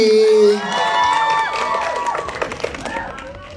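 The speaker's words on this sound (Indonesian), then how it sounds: "Selanjutnya kita punya tepuk tangan dong paling meriah untuk Feby Rastanti." A crowd at a film press conference claps, cheers and whoops for an actress, the clapping and excited shouts rising after a brief voice at the start and continuing loudly with scattered yells.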